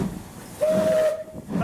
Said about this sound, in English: Blow another whistle.